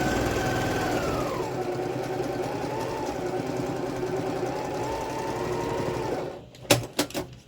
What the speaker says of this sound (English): I'm going to back stitch a couple times at the finished edge